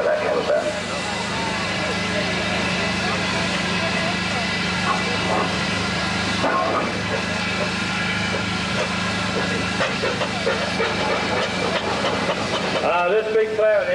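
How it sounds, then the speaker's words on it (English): A big steam ploughing engine pulls away at a country steam rally, a steady low chuffing rumble with clanking, under someone talking throughout, with a burst of nearby noise at the end. "This big ploughing engine was now leaving."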